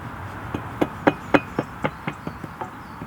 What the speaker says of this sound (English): You get your trowel and just tap it over a bit.